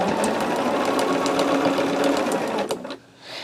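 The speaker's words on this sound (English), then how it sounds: "I think I'm just going to sew it down and we'll be good." Sewing machine stitching fabric down on a small quilting project, a steady fast whirring hum close by that stops abruptly near the end.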